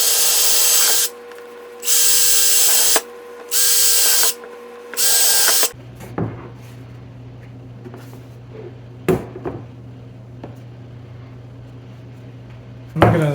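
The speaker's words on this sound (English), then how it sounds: "I'm just going to proceed to drill through it." A power drill bores through a plastic rain barrel in four loud bursts of steady whirring, each about a second long and separated by short pauses, followed by a low hum with scattered clunks and handling knocks.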